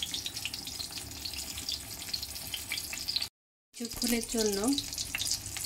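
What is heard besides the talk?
eggplant frying in oil in a wok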